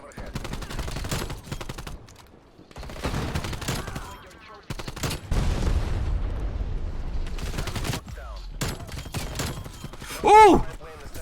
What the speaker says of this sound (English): Nice little spray right back into mid, just like that.